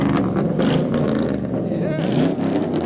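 Hummer engine revving hard as it pulls away at a car meet, a loud, sustained low roar across the whole stretch with crowd voices and shouting mixed in.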